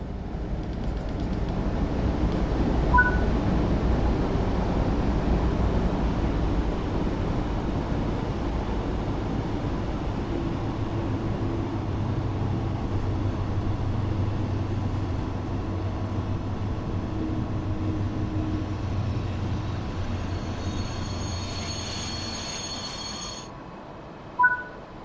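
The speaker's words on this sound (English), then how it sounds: "set the train brake to emergency and then wait for the train to come to a complete stop" A train in Train Sim World 4 on the Riesa–Dresden route brakes to a stop, with a steady low rumble and rolling hiss that slowly fades. A short hissing release comes near the end, then a sharp click.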